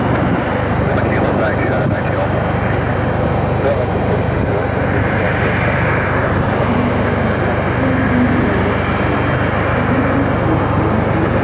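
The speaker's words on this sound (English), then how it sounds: "A330-800 taxiing to the gate." A Hawaiian Airlines A330-800 airliner taxis at Cleveland airport in rain and fog, its steady broadband jet rumble continuous and fairly loud, with wind and wet-weather noise mixed in and voices talking over it.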